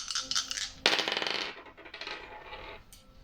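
Dice tumble and clatter on a hard surface, a bright rattling burst with a sharp impact near the start, then scattered small clicks settling and fading out.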